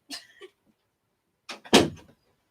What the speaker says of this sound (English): Can you close my door, please, so we don't have to listen to them?